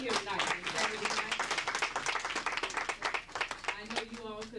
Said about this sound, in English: I think you all should keep clapping